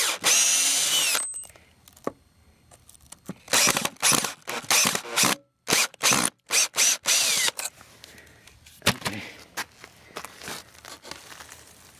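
A screw gun driving screws into wood while a well house is torn down, giving a series of loud, close whirring bursts of varying length with short silences between, then quieter rustling and scraping.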